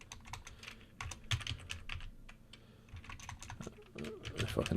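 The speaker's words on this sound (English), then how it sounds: "If I can type, that'd help." Fast, irregular clicking of keys on a computer keyboard, fairly quiet and close, continuing steadily for several seconds with a faint voice in the background.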